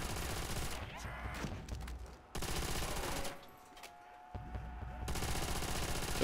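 A non-upgraded ray gun fired at zombies in Call of Duty: World at War Nazi Zombies with a realism mod, heard as loud, dense bursts of shooting broken by two brief quieter gaps.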